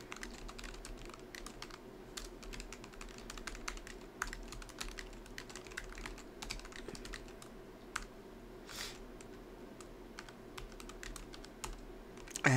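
Rapid, steady key clicks from typing on a new Logitech G Pro X 60% keyboard, close and fairly loud, with no talking.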